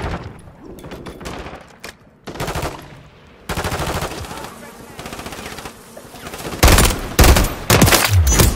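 Automatic gunfire in Modern Warfare 3 on a multiplayer map, loud rapid bursts and sustained rattling fire up close, with voices calling out over the shooting.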